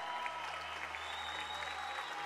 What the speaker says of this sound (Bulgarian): Със сигурност ще има така, здрави аплаузи.